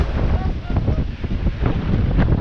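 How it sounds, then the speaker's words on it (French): Strong 40-knot wind roars across the microphone aboard a sailboat crossing the Atlantic, with heavy seas rushing and breaking nearby, a loud continuous wash. "40 nœuds devant, une mer magnifique"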